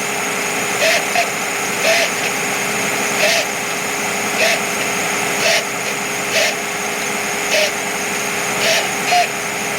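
A Mercedes 600SL engine runs roughly after throttle actuator repair, a steady idle drone broken by a regular pulsing surge about once a second, close and fairly loud.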